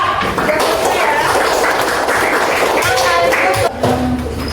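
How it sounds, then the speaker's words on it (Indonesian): A classroom claps for a student group after its presentation in an Islamic religious education lesson. The clapping is dense and fairly close, with children's voices and a teacher talking over it. "Yuk tepuk tangannya untuk kelompok 4."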